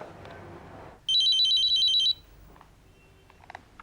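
Telephone ringing indoors with a bright electronic trill repeating rapidly for about a second, loud and clear over a quiet room, followed by faint clicks and a short handling sound.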